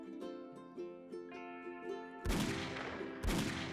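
Two loud, broadband gunshot blasts from a firearm in the survival game 7 Days to Die ring out close, spaced about a second apart, after a stretch of tonal music.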